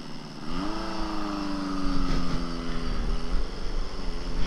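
Honda CB750F motorcycle engine idling steadily with a low, even rumble, the pitch rising slightly at the start, close by and continuous without talk.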